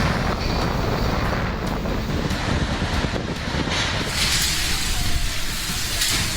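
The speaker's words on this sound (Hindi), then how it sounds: "अम्पन तूफान की तेज हवाएं जब 190 किलोमीटर प्रति घंटे की रफ्तार से चली" Cyclone Amphan's winds at around 190 km/h roar in a loud, steady, broadband rush with no break, close and overwhelming, no voices.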